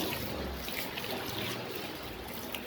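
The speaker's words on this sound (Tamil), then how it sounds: "இந்த சைடெல்லாம் தண்ணி எல்லாம் அடிச்சு விட்டுடலாம்." Water is sprayed and splashed along the side of a house during home cleaning. There is a continuous rushing, trickling wash with a low rumble at times, moderately close, and no talk.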